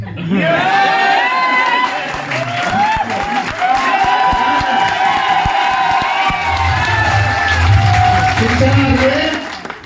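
A seminar audience in Gurgaon, Haryana cheers and whoops loudly, with shouting voices and some clapping in a dense, continuous crowd roar that lasts the whole stretch.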